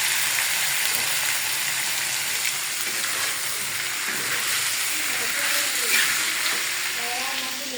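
Small fish sizzling and frying in a hot pan, with a steady loud hiss and crackle running unbroken throughout, close up.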